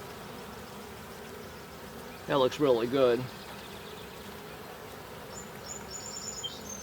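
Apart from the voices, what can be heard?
honeybees buzzing around an opened hive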